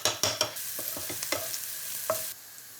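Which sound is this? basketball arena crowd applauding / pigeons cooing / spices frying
spices frying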